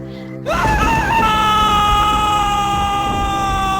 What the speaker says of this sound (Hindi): तभी एक भयंकर चीख गूंजती है